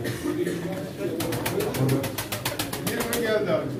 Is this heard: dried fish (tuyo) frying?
no